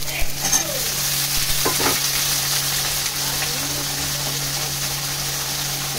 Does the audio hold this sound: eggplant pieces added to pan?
yes